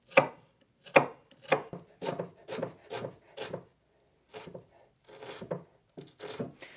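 A knife chops a red onion on a board in a string of crisp, close, evenly paced cuts, some coming in quick pairs with short pauses between, and no talking.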